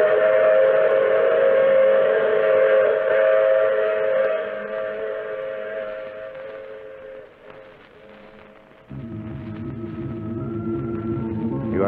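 A train sound effect from an old-time radio mystery drama, with a loud, sustained whistle blowing over rumbling rail noise. The whistle fades, then the train's rolling sound shifts lower and continues.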